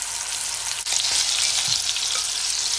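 Beef for pot roast sears in a hot pan, a loud, steady close sizzle that holds without pause, with a brief knock near the start.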